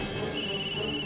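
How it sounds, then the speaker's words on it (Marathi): A telephone rings indoors with a steady, continuous electronic ringtone, clear and close, with no voices over it. "अरे मग घेत का नाहीयेस तू? सुरेशचा फोन आहे"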